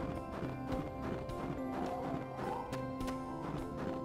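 Horse hooves clip-clop in a steady rhythm in the farming game Harvest Moon: Animal Parade, layered over cheerful background music with no talk.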